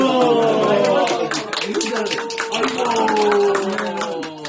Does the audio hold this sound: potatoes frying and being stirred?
no